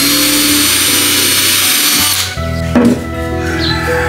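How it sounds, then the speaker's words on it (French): A power drill bores into wood: a loud, steady motor whine for about two seconds, then a brief pause and a second burst of drilling with a shifting pitch, no speech. "Perce d'abord."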